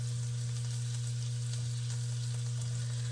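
Seasoned meat, dusted with garlic powder, onion powder, seasoning salt and black pepper, browning in a pan: a constant soft sizzle with a low steady hum beneath, no voices.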